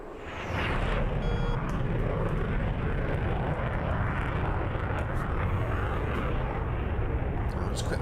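F/A-18C Hornet jet making a quick flyby in the game DCS, a loud broad roaring jet rush swelling in and holding strong, with speech heard over it.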